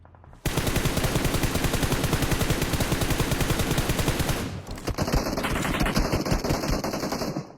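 Sustained rapid automatic gunfire from a battle royale video game match, loud and continuous for several seconds, then shifting to more scattered shots layered with game effect tones.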